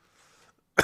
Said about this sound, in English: Whenever I get a cold, the cough stays with me for an extra week while I get all the phlegm out.